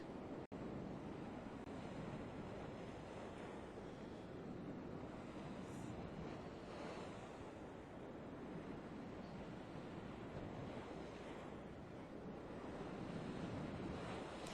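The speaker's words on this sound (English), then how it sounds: "Take a look at the lake behind me right now, just how choppy it is, and the water is actually coming over the seawall" Choppy lake water slapping and spilling over a seawall in a storm off New Orleans, a steady loud roar of surf blended with heavy wind buffeting the microphone, continuous for the whole stretch.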